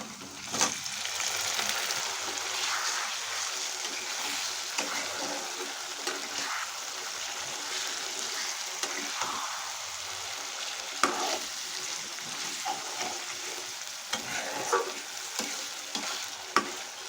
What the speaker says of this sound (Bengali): এইভাবে মাংসটাকে কষিয়ে নিচ্ছি